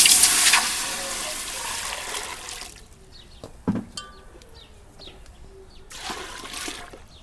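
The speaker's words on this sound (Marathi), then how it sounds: "त्या पातेल्यात ही पाणी ओतून घेतलं" Water pours loudly into a pot on a wood-fired stove for a couple of seconds, then stops, leaving quiet background with a few soft knocks and faint bird chirps.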